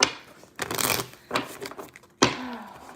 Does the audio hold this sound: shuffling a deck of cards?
yes